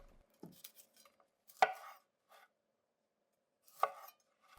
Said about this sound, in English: Cut the broccoli into small florets.